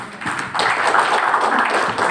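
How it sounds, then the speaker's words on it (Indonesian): Audience applause closing a live TB Day talk show: a dense, steady wash of many hands clapping through the whole stretch, fairly close and continuous with no speech on top. "Tepuk tangan."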